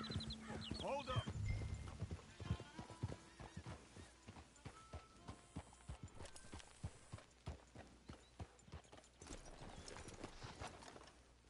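Horse hooves clip-clopping at a steady trot in Red Dead Redemption 2, close and rhythmic, with a whinny early on and game voices talking over the hoofbeats.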